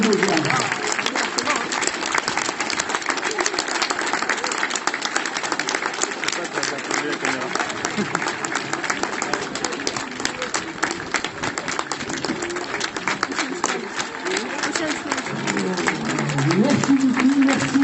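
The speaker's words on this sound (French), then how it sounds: "je vous demande de les applaudir" Sustained applause and clapping from a large outdoor audience at a tank museum's live armored-vehicle demonstration in Saumur, a dense steady wash of hands lasting throughout, with a voice speaking over it.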